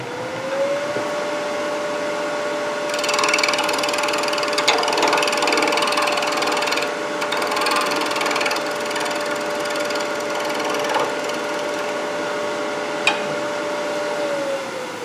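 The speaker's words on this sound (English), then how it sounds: "I'll use shear scraping to smooth that out" A wood lathe turning tool handles hums with a steady motor whine while a shear-scraping tool rides the spinning wood, adding a continuous gritty scrape with scattered ticks and clicks, loud and close.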